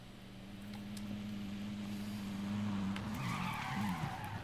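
A vehicle driving in the video game Warzone on Rebirth Island, with a steady engine hum that shifts into a rising tire skid and squeal toward the end, moderately loud with no talking.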